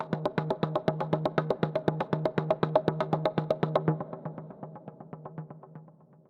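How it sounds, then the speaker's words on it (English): Two synth pulse parts from a Logic arrangement play alone in a steady, rapid stream of evenly spaced tonal pulses, loud at first, then thinning and fading over the last couple of seconds. "we've got these two pulse parts which sound like this by themselves."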